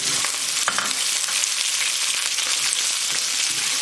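Grated ginger and curry leaves frying in hot oil for lemon rice give a steady, dense sizzle throughout, with a few faint clicks of stirring and no talking.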